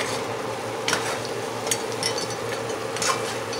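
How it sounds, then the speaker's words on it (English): Jamaican-style curry goat simmers in a pot, a steady close bubbling and sizzling hiss broken by a few light clinks and pops. "leaving it to simmer, marinate."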